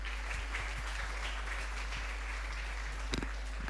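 An audience at a celebration of 20 years of skill education in Mumbai applauds to welcome the chairperson, a continuous, fairly distant patter of clapping over a low steady hum, with no one speaking.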